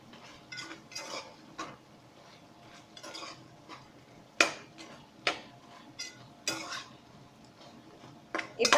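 Chilli powder and turmeric masala being stirred in a pot for chicken biryani, a spoon scraping and clinking against the metal in scattered strokes, fairly close and moderately loud with no talking.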